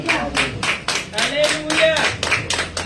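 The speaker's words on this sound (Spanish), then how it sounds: "Dele una ofrenda de palmas a Dios." A church congregation claps together in a steady, rhythmic beat, loud and close, with a faint voice or tone drifting beneath the claps.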